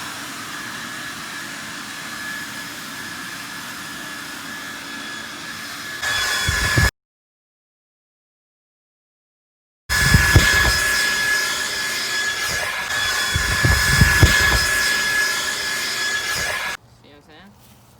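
A cheap leaf blower runs with a steady, loud whining roar, cuts out completely for a few seconds, then starts again with rumbling engine texture before stopping; a voice speaks over it at times.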